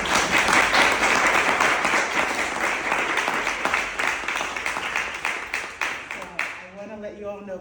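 An audience at a Sunday afternoon poetry reading applauds after a poem, with dense sustained clapping that thins out and ends as a voice starts speaking.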